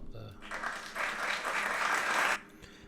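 Hand clapping bursts out for about two seconds, a modest round of applause that is moderately faint and stands alone before fading quickly.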